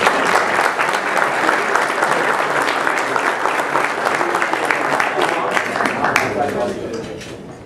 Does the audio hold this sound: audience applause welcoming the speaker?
yes